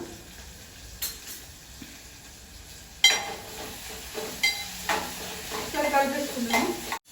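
Capsicum, onion, carrot and green chilli fry in a pan with a soft hiss, punctuated by clinks and scrapes of a utensil stirring the vegetables, growing busier toward the end.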